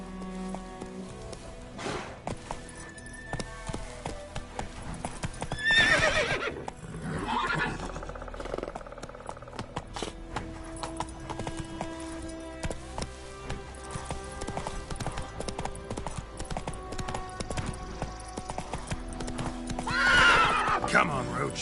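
Roach, the horse in Witcher 3, galloping with rapid rhythmic hoofbeats that run steadily throughout, along with a couple of loud neighs and snorts, under some game ambience and intermittent voices.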